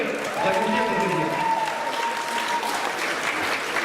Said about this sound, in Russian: Давайте поаплодируем. Аплодисменты, друзья.